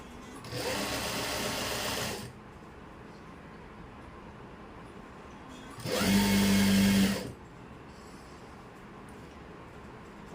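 A sewing machine stitching the waistband (nefa) of a palazzo runs in two short bursts, each about two seconds of fast, steady whirring, separated by a quiet pause.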